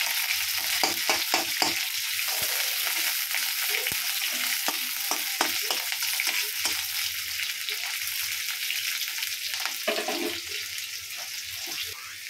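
Green chili and onion hit hot oil in a wok for a catla fish curry, giving a loud, steady, crackling sizzle throughout with occasional sharper pops and stirring clatter.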